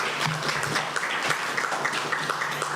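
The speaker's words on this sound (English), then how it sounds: "Let's give our facilitators a round of applause." An audience at a community input session on police alternatives in mental health response applauds the facilitators with steady, moderately loud crowd clapping throughout a short stretch, with no speech over it.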